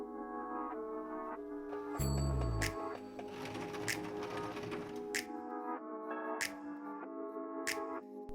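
A sewing machine stitches a zip onto faux leather for a large sling bag, its fast mechanical whir running in steady bursts with brief pauses and clicks between seams, close and clear.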